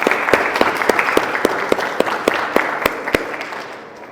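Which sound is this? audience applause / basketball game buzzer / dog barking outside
audience applause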